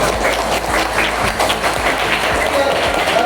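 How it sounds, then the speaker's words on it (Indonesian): Loud, steady applause from a class, dense overlapping claps filling the classroom for a few seconds. "Beri tepuk tangan untuk kita semua."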